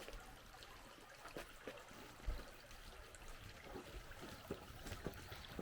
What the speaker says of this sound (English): you can see the water flows down from the village and it goes out into that little bay area